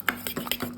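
Two sauces being stirred together in a small bowl, a few quick close scraping and clinking strokes of a spoon in a brief, light rhythm, with no talk.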